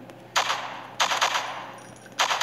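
Three bursts of rapid automatic gunfire in an Android sniper SWAT shooter game, each lasting about half a second, loud and close with short gaps between.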